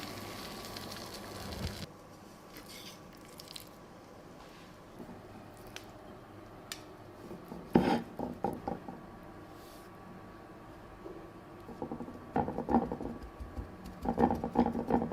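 Flour-coated chicken breast laid into hot oil, giving soft wet crackling and spattering that flares in bursts around the middle and again near the end, over a quiet steady hiss, with no talking.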